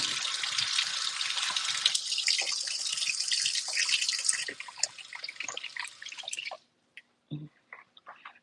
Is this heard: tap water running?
yes